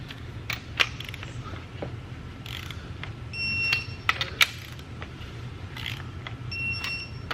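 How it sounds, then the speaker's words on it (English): Torque wrench tightening cylinder head bolts on a Toyota 2JZ racing engine during head installation: a series of sharp, close clicks and ratcheting ticks spaced irregularly over a low, quiet workshop background. "Now we can begin the torquing sequence."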